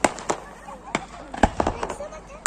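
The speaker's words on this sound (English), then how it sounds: "Those are some smoky fireworks" Smoky fireworks explode at the Swanage summer festival in Dorset, a series of sharp, irregular cracks and bangs at close range, with crowd voices murmuring underneath.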